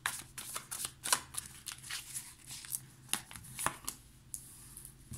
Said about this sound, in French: Hop, on va prendre 2 cartes supplémentaires